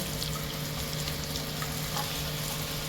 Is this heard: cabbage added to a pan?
yes